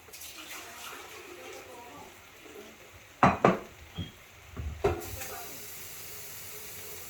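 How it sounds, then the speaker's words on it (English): Water splashes and pours into a cooking pot for rice with pigeon peas in a few short bursts, with clinks of cookware against a steady background hiss. "Now we're going to add the water."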